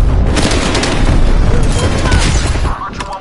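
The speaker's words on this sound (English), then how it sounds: "need a strike bomb on my mark" A strike bomb detonates in Call of Duty Cold War on PS5, a loud, sustained explosive roar and rumble filling the whole stretch before tapering off near the end.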